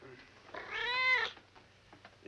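A single drawn-out cat meow, rising and falling over about a second, heard clearly and fairly close in an otherwise quiet scene from the film Rhubarb, with faint low background noise after it.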